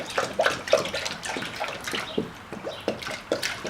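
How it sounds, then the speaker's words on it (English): Green coolant poured into the radiator of a 2003 Chrysler Sebring Coupe, giving a close, irregular gurgling and splashing with small glugs and drips throughout. "Let's go ahead and put the coolant in here."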